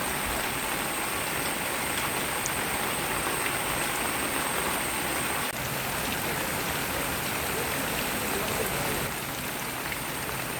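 Floodwater from the overflowing Manimala river rushes around submerged houses in Thiruvalla, a dense, unbroken roar of flowing water holding steady and loud from start to finish.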